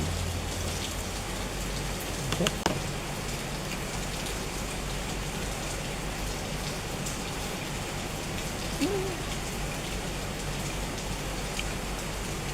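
Steady rain falls and patters on surfaces in a dense, even hiss that continues throughout, with a few faint knocks.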